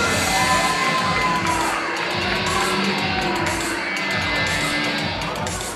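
Crowd at an independent pro wrestling show in Des Moines cheering loudly and continuously, a dense wash of shouts and whoops filling the arena without letup.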